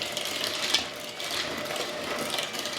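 An electric mixer works through chocolate chip cookie dough, a close continuous mechanical whir with a rhythmic grinding texture and slight swells in intensity.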